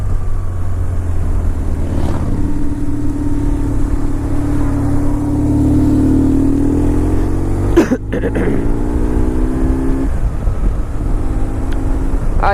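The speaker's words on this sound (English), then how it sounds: "just showing you how this thing bangs through all the gears" A BMW R1150 R motorcycle engine revs up loud and close through successive gear changes, pitch climbing and then dropping at each shift, with a brief break near the middle.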